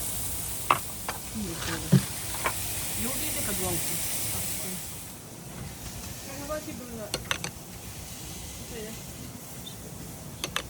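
Onions sizzling on a hot griddle for smash burgers, a steady hiss that eases midway, with spatula scrapes and clicks as they are flipped; people talk nearby.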